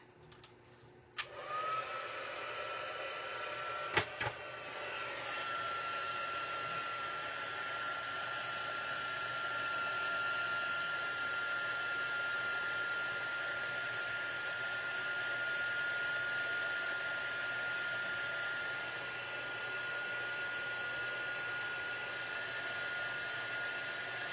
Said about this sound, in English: And we're going to heat emboss this.